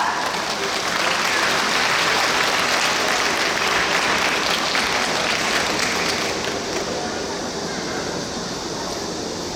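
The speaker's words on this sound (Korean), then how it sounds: "큰 박수로 맞이해 주시기 바랍니다" Sustained, loud crowd applause from an audience at an evening outdoor choir festival in an open-air music hall in Suwon, steady and dense for several seconds before tapering slightly.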